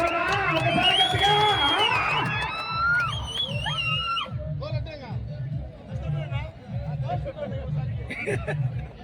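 Loud crowd noise at a temple fair festival for Yogi Sri Narasimha Swamy in Chinnapalle, Kadapa: cheering, whoops and babble that swell early then settle into chatter, with music and talk mixed in.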